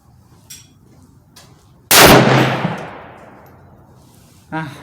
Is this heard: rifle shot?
yes